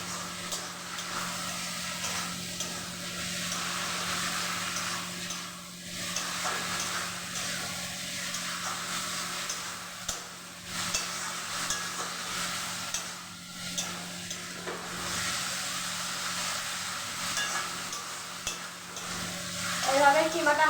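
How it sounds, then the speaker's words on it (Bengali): Goat mince keema stir-fried with spices in a pan, a steady close sizzle with scraping stirring strokes recurring throughout, no talking. "এবার এটা বেশ ভালোভাবে নাড়াচাড়া করে দেবো।"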